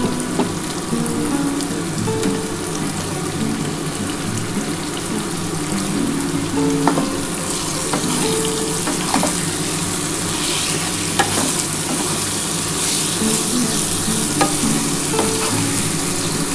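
Potato, pumpkin and eggplant fry and get stirred in a pan for a vegetarian lau shak chorchori, with a steady oily sizzle and scattered scrapes and clinks of the spatula, close and continuous with no talk.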